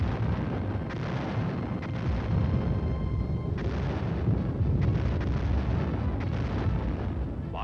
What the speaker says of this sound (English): the giant field guns of both armies churned up the soil of Europe for 4 long years